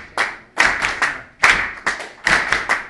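Hands clapping out a rhythmic beat, loud and close, in uneven groups of sharp claps repeating over a few seconds with no voice over them.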